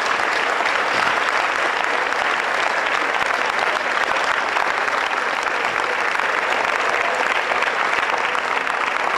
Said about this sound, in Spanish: Aplauda fuerte, aplauda fuerte.